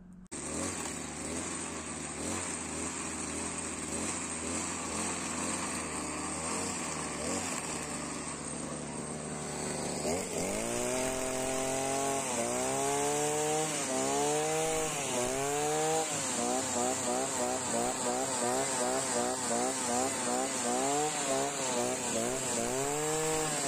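String trimmer fitted with a homemade reel running as it cuts grass, a loud, close engine drone that starts abruptly, then revs up and down in repeated rising surges.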